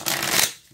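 A deck of tarot cards is shuffled in one quick riffling burst of papery flutter that stops abruptly.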